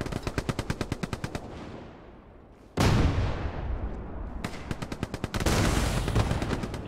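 Automatic weapon fire in the Hell Let Loose game: rapid loud bursts of shots, a heavy blast with a long rolling tail, then more quick bursts and another booming report, all close and without talk.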